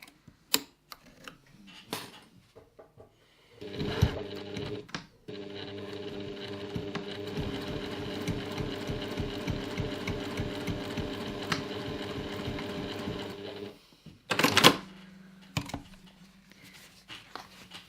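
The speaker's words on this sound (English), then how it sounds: "now we'll go over to the machine and we'll stitch those ends" A sewing machine stitches across the ends of fabric grocery-bag straps in a rapid, continuous mechanical run of about ten seconds, bracketed by quiet clicks and handling noises.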